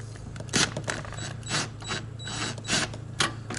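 Small flathead screws being backed out of a single wall outlet with a screwdriver, close faint scraping and ratcheting clicks in short irregular bursts.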